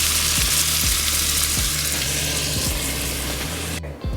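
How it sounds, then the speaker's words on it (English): Fish sizzles steadily in a hot frying pan, a loud, close crackling hiss with a few soft knocks underneath, and a brief break near the end. "Let's listen to that sizzle."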